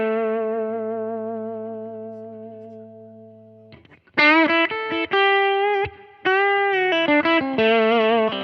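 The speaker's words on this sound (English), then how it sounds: "I'm going to turn the volume down and raise the gain up to the crunchy territory." An electric guitar plays through an Ethos Clean Fusion Deluxe amp set to crunchy gain: a sustained, decaying chord rings out, then a series of loud, slightly overdriven single notes and short phrases follow with clear pauses between them.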